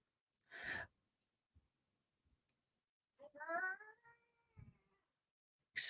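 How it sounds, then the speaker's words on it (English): Griffin, a cat, gives a drawn-out, squeaky, wavering yawn up close, framed by a few soft breaths and small noises in an otherwise quiet room. "Excuse Griffin, he was yawning."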